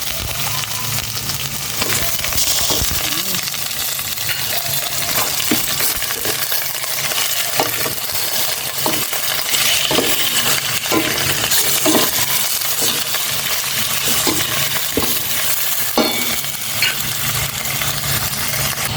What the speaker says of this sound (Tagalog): Ilagay ko na ito yung chicken para magisa na.